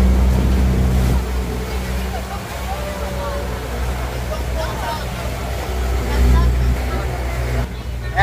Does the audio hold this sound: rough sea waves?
yes